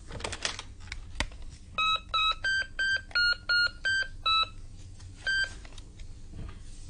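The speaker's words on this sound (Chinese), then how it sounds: "打个电话" Telephone keypad tones in a Cantonese radio drama: a quick run of about ten evenly spaced dialing beeps, then one more after a short pause, clear over a faint background.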